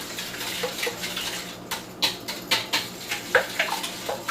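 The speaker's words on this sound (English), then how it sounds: "I have located my whisk, and we're going to start whisking away" A whisk beats a bread pudding mixture in a bowl: quick, irregular scraping clicks that grow sharper and more rhythmic halfway through, close and fairly quiet, with no talking.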